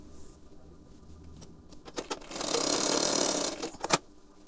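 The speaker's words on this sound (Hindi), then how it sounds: "अब मैं इसमें डॉट में सिलाई लगा लेता हूँ" A sewing machine stitching a blouse, with a few mechanical clicks followed by a short, steady whirring run of stitching and then more clicks as it stops.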